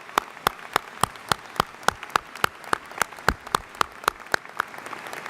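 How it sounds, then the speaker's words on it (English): Applause at a university graduation ceremony, with sharp, evenly spaced claps at a steady rhythm of about three per second, fairly close and continuing throughout. "a round of applause to congratulate the Student Award recipients"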